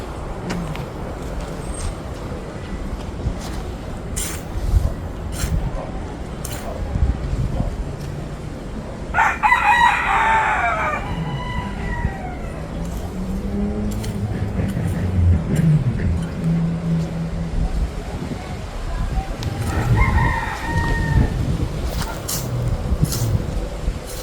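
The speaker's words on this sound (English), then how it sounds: "I think the rooster's confused." A rooster crows at moderate distance around 4:30 in the afternoon, with a second crow later, over steady outdoor background noise and passing traffic.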